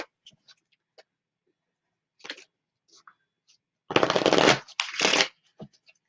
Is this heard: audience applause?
no